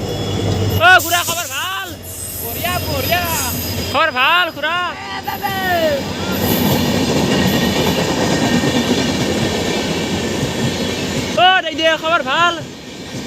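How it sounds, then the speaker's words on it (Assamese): A train rushes past on its tracks with a steady, loud roar and rattling wheel noise lasting several seconds, while people nearby talk and shout playfully before and after it goes by. "বুলেট ট্ৰেইন আহিছে"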